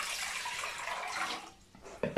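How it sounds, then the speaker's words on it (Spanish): One liter of water pours into a small pot, a steady hissing splash that thins out near the end, followed by a few close knocks. "Voy a colocar 1 litro de agua"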